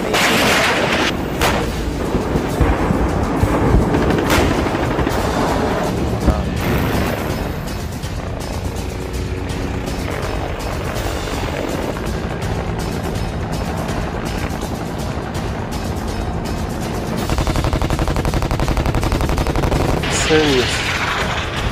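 Heavy artillery fire during a joint US and South Korean live-fire military exercise, with repeated loud booming blasts and rattling bursts that continue throughout amid dense roaring noise.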